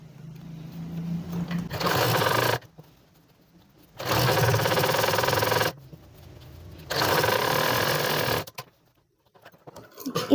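Three bursts of a sewing machine running along a trouser edge, each a loud, steady mechanical whir lasting about a second or two and separated by quiet pauses.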